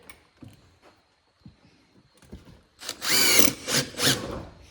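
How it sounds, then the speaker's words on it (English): A power drill drives a screw into the timber of a wooden bee box. Several faint knocks and handling sounds come first, then a loud, close whirring burst with the motor pulsing as the screw bites. "Got to put the screw in"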